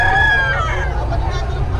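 A rooster crows loudly and close by, a single strained call that trails off, with a hint of voices in the background.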